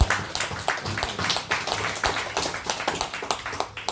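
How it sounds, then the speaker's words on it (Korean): Audience in a church service clapping to welcome guests, a steady patter of many hands at moderate distance, continuing evenly throughout without talk. "우리 박수로 환영합니다."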